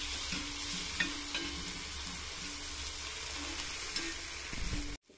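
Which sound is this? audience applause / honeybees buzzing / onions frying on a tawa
onions frying on a tawa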